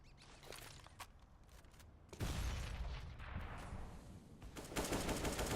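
Shotgun blasts from a Mag-7 in a competitive Counter-Strike match, heard as a few sharp booming shots amid scattered game sounds, fairly distant and moderately loud.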